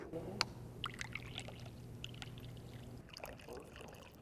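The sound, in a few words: pouring drinks into a shot ski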